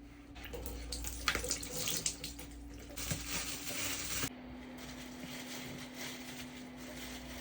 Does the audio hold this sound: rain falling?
no